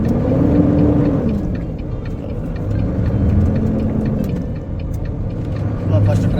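Steady low engine rumble and road traffic noise inside a truck cab driving through light Sunday traffic in Dubai, continuous and fairly loud, with someone talking over it.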